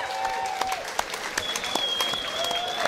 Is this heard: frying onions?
no